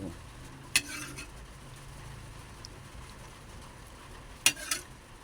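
Chicken adobo with water spinach cooks in a pan after broth is added, with a quiet simmering sizzle and two sharp utensil clinks against the pan.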